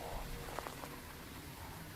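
Steady rain falls in Phasmophobia, a faint, even hiss of drops on surfaces with a few slightly louder patters, heard quietly throughout.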